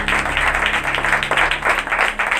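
Loud, dense applause from a church congregation fills the space, a continuous patter of many hands clapping that stays steady throughout with no talking over it.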